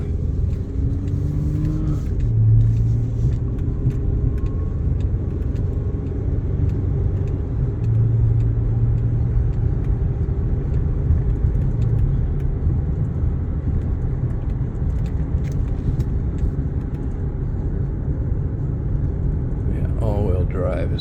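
A pickup truck on the road, its engine a steady low rumble with tyre and road noise throughout, heard from inside the cab with occasional gear or speed changes.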